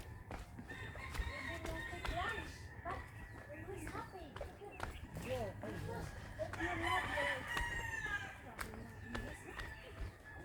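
A rooster crows in the distance, with some clucking, on a mountain climbing trail, mixed under people talking, footsteps and outdoor ambience.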